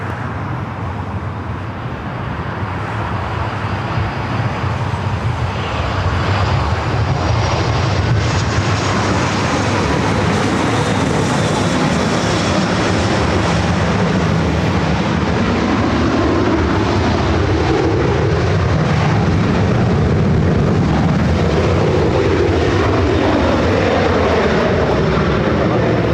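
An airliner roars down runway 24 left at LAX on its takeoff roll, a loud, steady jet engine rumble that swells and holds for the whole stretch, heard from nearby without talk.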